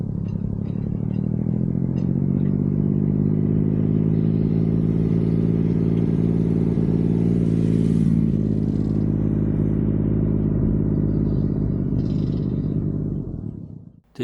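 A motorcycle engine holds a steady throttle during a swerving manoeuvre, giving a constant, loud droning rumble mixed with wind noise that fades out abruptly at the very end.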